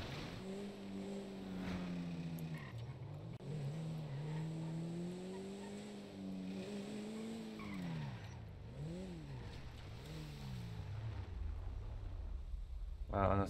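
Van driving in GTA V, with engine tone rising and falling through gear changes and a harsh roar near the end, under steady Portuguese conversation between players.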